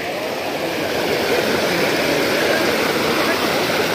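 Water rushing through a pipe at the intake tank of a mini hydropower project under construction, a steady loud broadband roar that holds unchanged throughout.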